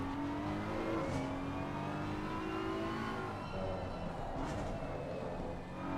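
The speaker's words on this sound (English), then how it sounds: "I like the noise of the beamer from up close." A BMW race car engine in a racing video game, heard up close as a steady, loud mid-pitched drone with rising and falling revs that continue for the full stretch without a break.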